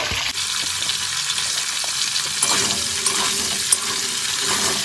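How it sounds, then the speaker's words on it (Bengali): Cauliflower and carrot pieces fry steadily in a pan for a mixed vegetable dish, with a continuous close sizzle broken by scraping stirs and occasional sharper pops. "এবার এই দুটোকে আমি এই 1 থেকে 2 মিনিট একটু ভেজে নেব"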